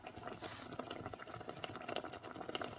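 Apples for a spiced apple and plum crumble boiling in a pan on the highest hob setting, giving a steady bubbling, crackling patter that runs continuously and fairly close throughout.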